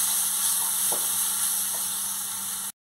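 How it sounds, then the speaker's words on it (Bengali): Ground cumin and coriander masala sautés in a pan for a fish curry, a steady close sizzle with a couple of soft stirring knocks before it cuts off abruptly. "এইটা একটু আমি মশলাটা ভালো করে কষিয়ে নেবো এইভাবে"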